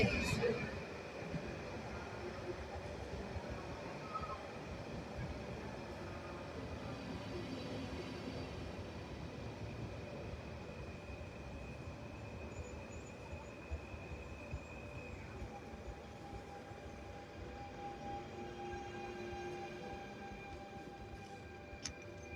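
ED160 electric multiple unit train at a station with two trains leaving for Gdynia from the same track, a faint continuous rumble and electric whine with a steady tone that shifts partway, distant and quiet, no talking.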